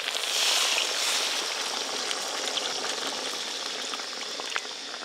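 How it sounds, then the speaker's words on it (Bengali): Water poured into hot oil left from frying hilsa and prawns, a loud burst of hissing sizzle that settles into steady crackling bubbling, close and continuous. "এবার জল দেব।"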